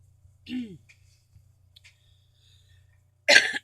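A short throaty vocal burst is followed by quiet, followed by a sharp, loud cough near the end, close to the listener.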